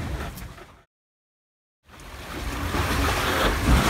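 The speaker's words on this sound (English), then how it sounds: "Nothing like as loud as the sound of the water" Water rushing and waves slapping around a solar-powered sailboat tacking between the Frisian Islands near Norderney, a steady broadband wash with wind buffeting, broken by a second of silence before the sound returns louder.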